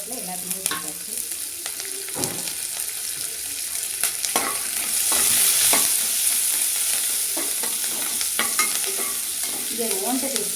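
Green chili, onion and curry leaves fry in hot oil with already-popped mustard and cumin seeds, giving a steady, close sizzle with scraping stirring strokes throughout.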